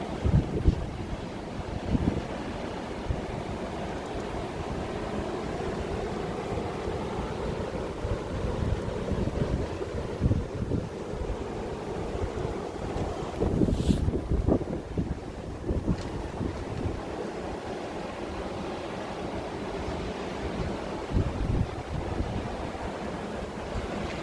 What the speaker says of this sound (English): The breeze is incredible.